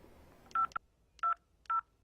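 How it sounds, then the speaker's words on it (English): Phone dialing tones from a cell phone: four short, clear beeps at steady intervals, each a brief pure tone with quiet gaps between, sounding alone. "Making a phone call on your cell phone seems to be an easy thing to do."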